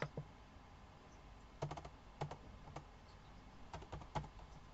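A few short bursts of key presses on a computer keyboard, isolated close clicks separated by quiet pauses over a faint steady background.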